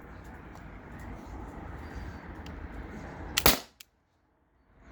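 A T4E TR50 CO2-powered gun fires one sharp, loud shot near the end, cutting through a steady background hiss and rumble, followed by silence.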